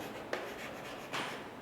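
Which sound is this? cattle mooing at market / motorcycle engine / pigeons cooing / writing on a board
writing on a board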